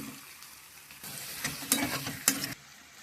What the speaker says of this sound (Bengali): এবার সয়াবিনটা দিয়ে একটু কষিয়ে নেব।